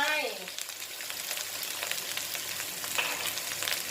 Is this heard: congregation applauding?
no